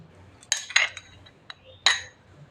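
A metal spoon clinks against a bowl as two spoonfuls of flour go in for sweet potato pantua: a few sharp, bright taps close by, spaced irregularly over a faint background hum, with no talk.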